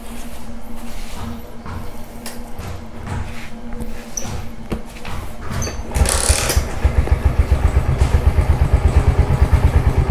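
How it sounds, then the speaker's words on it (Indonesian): A Yamaha NMAX 155 scooter engine idling nearby, first with clattering and tool-like noises over a low hum, then a steadier, louder rhythmic engine putter in the second half. "ini kondisi idle"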